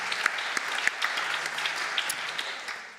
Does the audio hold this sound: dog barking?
no